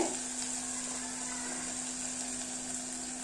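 A ginger, garlic and chili paste fries in a pan for prawn rice as turmeric goes in, a steady, soft sizzle with a constant hum, and nobody speaks.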